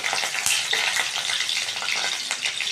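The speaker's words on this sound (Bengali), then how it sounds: "এবার আমি এখানে প্রথমে রসুনটা দিয়ে নিচ্ছি। রসুনটা একটু নেড়ে করে" Garlic frying in hot oil in a wok, a dense steady sizzle with scraping stirring strokes throughout, close and loud with no talk.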